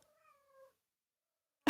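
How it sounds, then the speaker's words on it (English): A cat meows once in a short, thin, tonal call in a quiet room, followed after a pause by a sudden loud thump or bark-like burst. "My chihuahua is barking at the cat meows."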